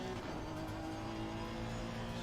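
Honda NSX race car engine in a racing game at Watkins Glen, droning loud and steady with a dense, continuous tone as the car heads into the final corner.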